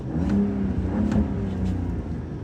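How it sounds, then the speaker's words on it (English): A Ram pickup truck engine revs steadily at close range, a continuous mid-pitched roar with slight surges in pitch, no voices. "I'll rev the engine up."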